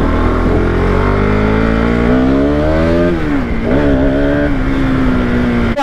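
A superbike engine runs at speed, a loud, close droning roar whose pitch climbs, dips and settles again over several seconds, with no voices.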